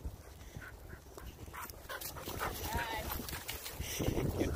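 Two off-leash pit bulls and a bulldogge meet outdoors, with whimpering and intermittent barking mixed among nearby voices of people chatting.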